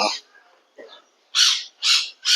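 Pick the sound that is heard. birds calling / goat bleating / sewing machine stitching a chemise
birds calling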